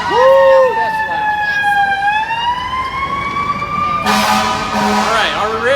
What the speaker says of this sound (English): Well, we got all these sirens going on.